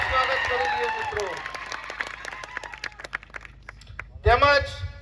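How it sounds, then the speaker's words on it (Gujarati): Scattered hand claps from a crowd at a political gathering in Rajpipla, welcoming Varshaben Vasava, come as sharp separate slaps under a loud amplified voice that keeps talking, then the speech swells again. "આપણા વર્ષાબેન વસાવાનું આપણે તાળીઓના ગણગણાટથી સ્વાગત કરી દઈએ મિત્રો"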